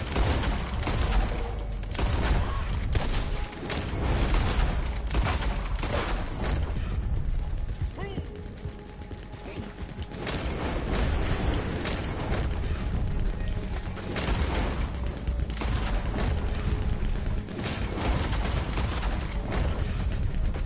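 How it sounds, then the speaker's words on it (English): A Maxim machine gun rattles in Red Dead Online, a dense, continuous mechanical clatter that runs loud for the whole stretch amid other game noise. "With that Maxim gun, someone shot me."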